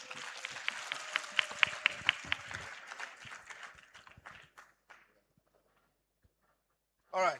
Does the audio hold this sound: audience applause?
yes